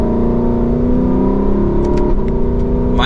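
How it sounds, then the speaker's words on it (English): A 2024 Lexus LC500's naturally aspirated V8 in Sport Plus mode accelerates from inside the cabin, a loud, steady rising drone with a quick gearshift and a short dip in pitch partway through. "it also gives us that very popular, naturally aspirated V8 engine"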